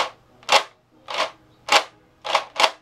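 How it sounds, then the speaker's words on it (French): Five sharp snapping shots from a Nerf Elite 2.0 Double Punch foam dart blaster, evenly spaced about half a second apart, close and loud with quiet gaps between. "on appuie sur la détente, ça tire, on relâche la détente, ça tire aussi."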